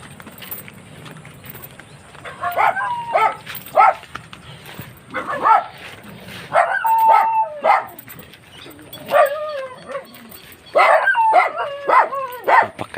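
A dog barks noisily in irregular bursts of sharp, fairly close barks and yelps, some clustered in quick runs, over faint background noise.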